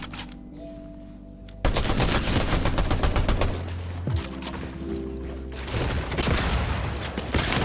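Strike AR assault rifle fire in Fortnite, loud fast automatic bursts in two long runs broken by a short pause, with clicks of weapon handling between them.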